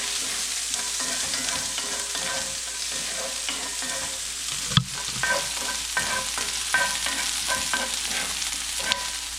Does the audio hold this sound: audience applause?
no